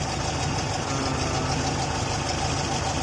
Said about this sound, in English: There's the motor. Runs really smoothly.